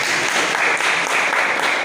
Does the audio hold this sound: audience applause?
yes